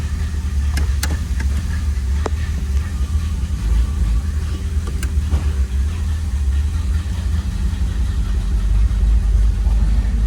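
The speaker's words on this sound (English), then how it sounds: "This 350 sound like it got a little cam in it." A 1986 Chevrolet Monte Carlo SS with a 350 V8 idles steadily in a low, rumbling drone that holds an even level throughout, with a few faint clicks and knocks over the top.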